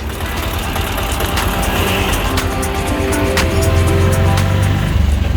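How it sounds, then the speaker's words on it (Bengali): A tuk-tuk engine drones steadily while riding through Sri Lanka toward a bus station, a loud, close, continuous motor hum with road rumble and occasional rattles. "বাস স্টেশনে যাচ্ছি টুকটুকে করে"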